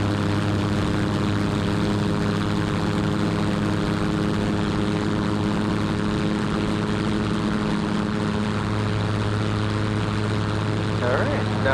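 Seaplane propeller engine powering up for takeoff, a loud, steady droning roar with a strong low hum that holds constant throughout, close and continuous, with faint voices underneath.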